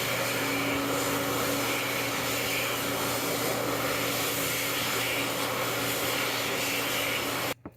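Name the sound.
Vortex hand dryer running at Sheetz, Natrona Heights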